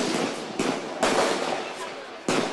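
Gunfire during a police shootout with drug traffickers, several sharp reports at irregular intervals ringing out over a continuous noisy background, moderately loud and somewhat distant.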